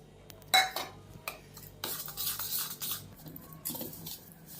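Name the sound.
beating butter with powdered sugar in a bowl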